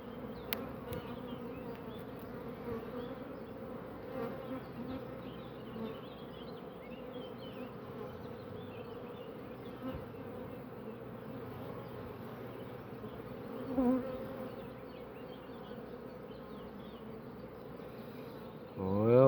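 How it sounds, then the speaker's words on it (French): Honeybees buzz steadily around an opened hive while nucleus colonies are being reinforced, a dense, continuous drone with occasional nearer swells as individual bees pass close. "Il y a des jeunes abeilles"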